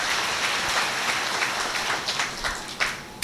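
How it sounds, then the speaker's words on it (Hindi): A church congregation at a Catholic ashram adoration service claps in a scattered burst, with individual hand claps standing out near the end and no talk over it. "जोरदार ताली बजाना"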